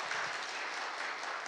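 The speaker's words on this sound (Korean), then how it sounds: "우리 박수로 환영하겠습니다" Church congregation clapping in welcome of visiting young adults during a Sunday worship service, a steady dense patter filling the room for a brief moment with no voices over it.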